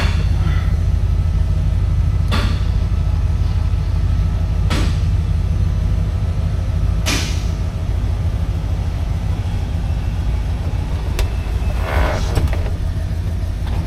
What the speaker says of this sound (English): I'm gonna go ahead and let the top up